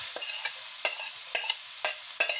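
Onion frying in a pan with bacon and salted butter, a soft continuous sizzle marked by a handful of brief scraping stirs, close and moderately quiet, no talking.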